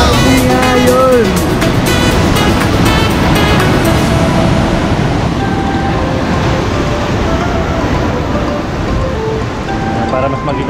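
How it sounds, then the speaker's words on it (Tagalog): Ocean surf crashes and rumbles at the mouth of a sea cave on an island, a loud, continuous roar of breaking waves, with people talking over it at the start. "ang ganda ng alon no"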